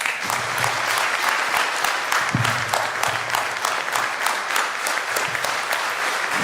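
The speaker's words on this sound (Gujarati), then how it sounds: "વીર તાળીઓના નાદથી આ બાળકોને આપણે વધાવી લઈએ" Sustained applause from an audience welcoming children at a satsang and spiritual learning camp in a Patidar community hall, dense and steady throughout with a faint voice briefly under the clapping.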